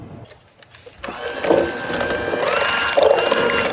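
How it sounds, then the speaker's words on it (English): Egg, vanilla extract and milk being whirred together with a mixer, a steady buzzing motor that kicks in after a second and runs continuously, close and fairly loud, with no talking. "We're going to get this all blended together."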